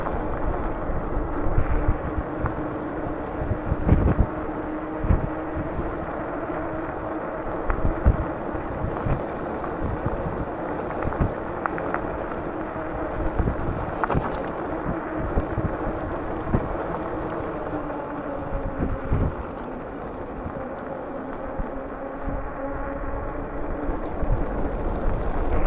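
Wind roaring past the microphone on an ATV coming fast down a hill, a continuous loud buffeting rumble with gusty surges throughout, no talk.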